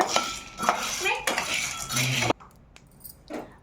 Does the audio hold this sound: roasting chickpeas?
yes